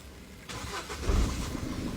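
A car engine is started with the key, cranking briefly and catching at once, then settling into a steady close idle. No one speaks.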